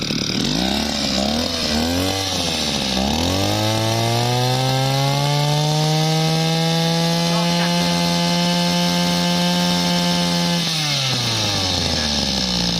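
A used Japanese Kyoritsu 209D brush cutter with a two-stroke engine revs up from idle, holds a loud, steady high-rpm whine for several seconds, then drops back down, close to the microphone.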